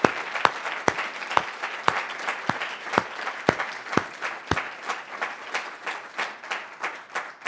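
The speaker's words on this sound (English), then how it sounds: "How about a round of applause for these people who've just come out?" A crowd applauds warmly, with several sharp individual claps standing out at first before settling into steady, dense clapping that carries on.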